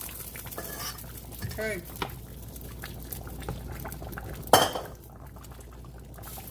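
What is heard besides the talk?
shrimp going into a pot with butter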